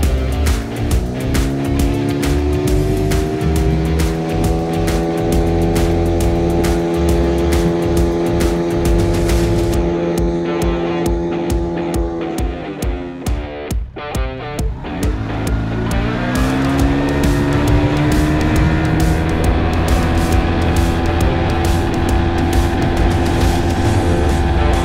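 A 15 horsepower outboard motor drives a 4 meter Discovery boat carrying two people, its engine droning loudly and continuously with pitch shifts as it throttles, easing briefly midway before climbing again.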